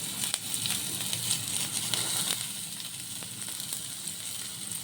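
Onions and green chillies fry in hot oil with a steady, close sizzle and scattered crackles, and no voices.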